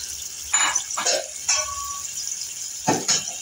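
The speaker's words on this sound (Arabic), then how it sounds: "نحط كده ربع كوبايه ميه" About a quarter cup of water goes into a cooking pan with tomato sauce, heard as several short, close splashing and sizzling bursts separated by brief pauses.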